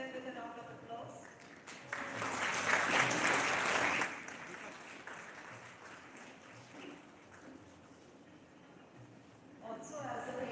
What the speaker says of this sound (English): I request everyone to kindly welcome them with a round of applause